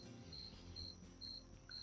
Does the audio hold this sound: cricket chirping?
yes